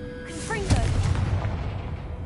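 Confringo spell fired in a Harry Potter video game lands as a deep booming blast with a rumbling tail, right after a spoken incantation and layered with game music and effects.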